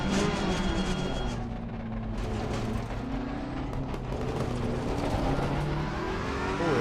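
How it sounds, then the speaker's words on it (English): A Ferrari GT3 race car in Assetto Corsa Competizione roars close and loud at Monza, its engine revving up and down through gear changes with popping backfire crackles on the overrun, and no voices over it. "Plenty of backfiring again."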